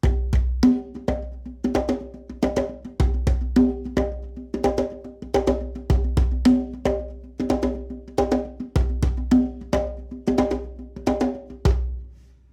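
A hand drum plays a brisk, repeating rhythmic pattern of sharp slaps and deeper tones, with quick double slaps closing each phrase, loud and close.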